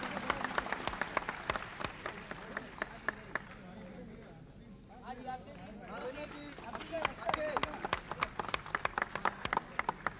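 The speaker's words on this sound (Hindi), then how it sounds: "जोरदार तालियां दीजिए।" Audience applause and clapping at a Bollywood film event where awards are being handed out, a dense crowd of hands with sharp individual claps, a brief lull midway, then clapping swelling again. Talk over a microphone runs underneath.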